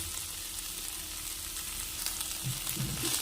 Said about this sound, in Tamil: அடுப்பை லோ டு மீடியம் ஃப்ளேமில் வச்சுக்கிட்டு கீரையை நல்லா வதக்கி எடுத்துக்கோங்க.